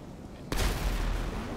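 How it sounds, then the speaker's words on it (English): A motorbike explodes in GTA 5, a sudden loud blast breaking a near-quiet moment and rolling on as a heavy, sustained rumble. "Oh snap, that bike explosion"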